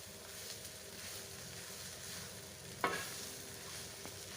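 Masala being stirred and mixed into parotta frying in a pan, a steady soft scraping sizzle with one sharp clink of the utensil against the pan near the end.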